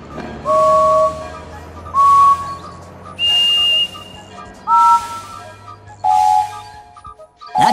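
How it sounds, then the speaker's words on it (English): Five separate steam engine whistles from a Thomas & Friends video game sound one after another with short gaps, each a bright sustained tone at a different pitch, loud and clear. "Which one of these is like Edward's whistle?"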